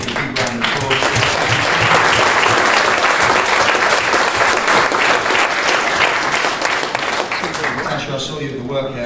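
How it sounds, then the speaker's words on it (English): Loud, sustained applause from a crowd at a boxing press conference, dense clapping filling the room for several seconds before tapering off near the end. "we should give a big round of applause"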